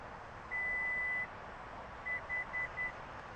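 A Lexus GX 550 power tailgate beeps while saving its opening height: one long beep, then after a pause four short evenly spaced beeps, faint over a quiet background hum.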